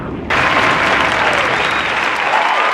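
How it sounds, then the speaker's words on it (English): Crowd applause played as a sound effect, starting abruptly and continuing as a thick, loud wash of many clapping hands for nearly three seconds. "Hand claps."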